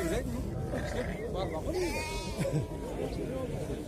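Sheep and lambs bleat several times at a busy livestock bazaar in Jalal-Abad, wavering calls close by over a constant murmur of people talking.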